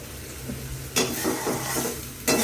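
Spice paste with yogurt is stir-fried in a pan for katla fish kalia. A soft background sizzle runs throughout, and two louder scraping stir strokes stand out close by.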